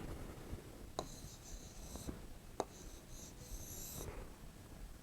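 A pen scratches across paper as the Urdu word namkeen is written by hand, producing faint, close scratchy strokes in short bursts over a soft hiss.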